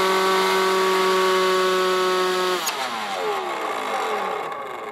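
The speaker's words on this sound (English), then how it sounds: "So now I'm going to turn on my leaf blower." A small Black & Decker battery-powered leaf blower drones steadily at high pitch, then its tone drops and winds down as it is throttled back, loud and close.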